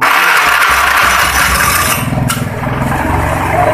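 A motorcycle's electric starter cranks the engine during a battery charging check, giving a loud whirring grind followed by a rough rattling engine sound, close and continuous with no talk.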